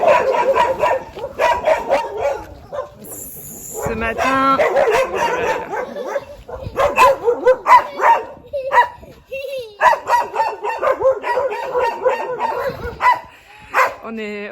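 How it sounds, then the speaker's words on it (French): Several dogs bark and yip in bursts, loud and close, welcoming campers with a truck camper in Mexico, with a person speaking between and over the barking. "on est toujours accueillis par les chiens à chaque fois qu'on passe quelque part."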